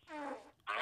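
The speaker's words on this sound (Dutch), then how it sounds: "Dat zijn jouw scheten." A short, close fart, a buzzy tone lasting under half a second followed by a brief breathy burst, heard alone.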